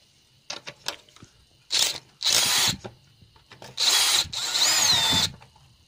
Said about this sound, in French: Je trouve quelque chose à dévisser maintenant. Ok, une petite vis de 10 qui tient le pare-chaleur.